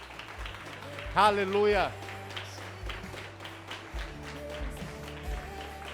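A church congregation at a baptism service claps in bursts beneath a preacher's amplified voice, with a short sung or shouted exclamation rising over the scattered, rhythmic hand claps.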